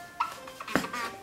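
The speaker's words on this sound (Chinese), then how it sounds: "现在就来将它切片了" A knife slices a cleaned matsutake mushroom on a board. A few short, crisp cuts and taps come close and fairly loud, with quiet gaps between them.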